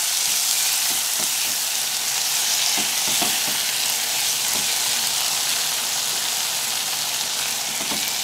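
Canned green beans hit a pan of hot, softened onion and set off a loud, dense, continuous sizzle. Faint stirring clicks run underneath, and no one speaks.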